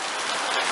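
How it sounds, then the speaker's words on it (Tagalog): Steady rain falls in Araullo, a dense continuous hiss of drops on surfaces, fairly close and unbroken with no voices. "Umuulan"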